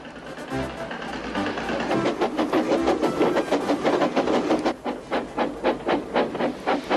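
Thomas the steam engine puffing along past fields, rhythmic chuffs of steam that start softly and build into a steady, quickening beat of sharp hissing puffs, fairly close and loud.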